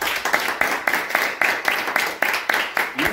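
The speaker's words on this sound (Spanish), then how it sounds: "Vamos a dar un aplauso al Señor." A church congregation claps in a steady rhythmic beat, about four claps per second, moderately loud and fairly close, with no speech over it.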